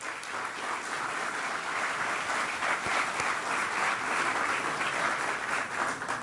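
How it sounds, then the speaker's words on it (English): A graduation crowd applauds staff and teachers, an even, continuous wash of clapping from a large audience, steady and fairly distant for the whole stretch. "So let's give a round of applause for all those folks."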